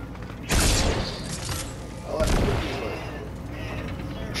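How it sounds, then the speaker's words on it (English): Gunfire in the video game Fortnite, two heavy bursts about two seconds apart over a steady background, with players talking nearby. "Trying to shoot through that window"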